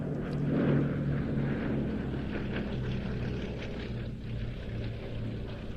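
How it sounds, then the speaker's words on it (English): A Westland Lysander flying at the Old Buckenham Airshow gives a steady, moderately distant propeller-engine drone that holds evenly for several seconds, with no voices. "A particular favourite of mine, the Westland Lysander."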